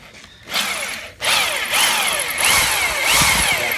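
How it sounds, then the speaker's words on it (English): A power drill whirs loudly and steadily up close, drilling out a bolt while installing headers on an LS-swapped BMW E36, pausing briefly then running on in a continuous grinding whine. "Yeah, we got to drill."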